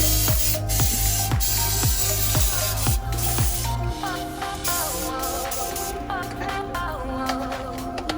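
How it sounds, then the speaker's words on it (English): Repeated short bursts from an aerosol cooking spray can, sprayed into the cups of a silicone mold in quick succession at close range with a rattling, hissing texture. "So I'm just gonna spray each cup so the eggs don't stick."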